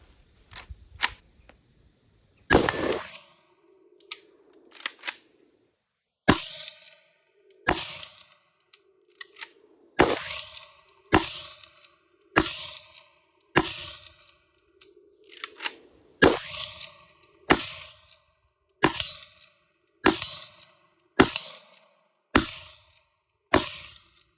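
A PAR-3 pump-action 5.56 AK-pattern rifle from Romania fires about a dozen sharp, loud shots in a steady rhythm roughly every 1.5 seconds. Each report decays quickly, and the pump-action cycling clatters between shots.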